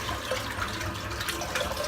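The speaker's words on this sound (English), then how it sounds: "I'm just going to empty this water out because it's filthy" Dirty shaving water being emptied out of a basin, heard as a soft, continuous splashing and gurgling pour, fairly quiet and close.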